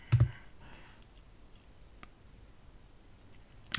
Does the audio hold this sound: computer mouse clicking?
yes